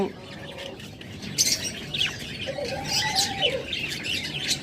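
Rare-mutation budgerigars at a bird farm calling with scattered chirps, squawks and tweets, moderately near, layered over a constant low hum of surrounding birds.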